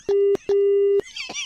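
Two long, steady telephone busy-signal tones sound close and loud after a call is hung up, separated by brief gaps, then a short noisy burst.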